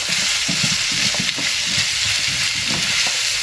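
Potato pieces sizzling loudly in hot oil in a pan, a dense continuous hiss with repeated scraping stirs of a utensil, close up and with no voices.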